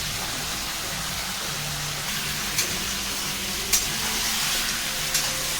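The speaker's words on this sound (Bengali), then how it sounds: "একদম হাই ফ্লেমে করে দিয়ে এটাকে একটু নাড়বেন।" Chicken fries hard over a high gas flame, giving a dense, continuous close-up sizzle like heavy rain, with occasional soft knocks as it is stirred.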